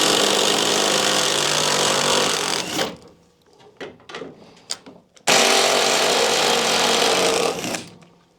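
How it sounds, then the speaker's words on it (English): A cordless impact driver removes the bolts holding a washing machine motor, giving two loud sustained bursts of rapid hammering rattle separated by a pause filled with clicks and handling knocks. "I'll just use my impactor quickly to remove the bolts that hold the motor in place."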